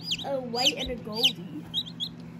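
Newly hatched white and golden chicks from a home incubator give high, thin peeps in short repeated bursts, heard close alongside people talking.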